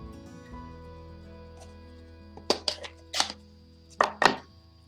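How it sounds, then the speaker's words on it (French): A small paper punch cuts flower and leaf shapes from pale papaya cardstock, giving about four sharp clunking presses close by, two quick ones and then two more after a pause, over quiet room tone. "Alors la petite perforatrice, donc elle a les deux fleurs et les deux feuilles."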